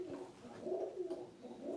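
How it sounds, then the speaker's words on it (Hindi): A pigeon coos softly and close by, giving a few low, rounded notes that rise and fall in a short throaty burst. "कबूतर है ना?"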